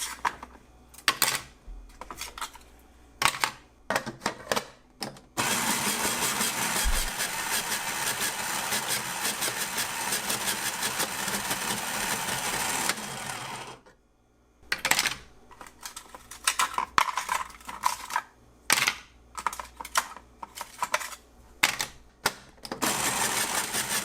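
An ice shaver machine crushing ice gives a loud, steady grinding roar of about eight seconds, then stops on its own. Scattered clicks and clatter come before and after.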